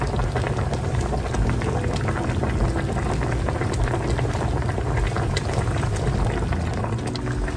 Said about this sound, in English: I'm gonna let this simmer for about